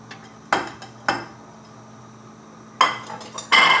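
Chopped carrot and ten green beans dropped into a cooking pot, giving a few sharp clinks and clatters against the metal, spaced out with quiet gaps between them.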